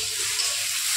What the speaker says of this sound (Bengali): এখানে দেখো এই যে আলু পটলগুলো যে